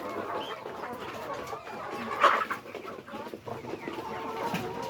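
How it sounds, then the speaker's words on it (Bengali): Desi chickens clucking in a farm enclosure, scattered soft clucks with one sharper call midway, fairly near over low background noise. "আর এখানে দেখতেছেন আমার এগুলো হচ্ছে দেশি মুরগি"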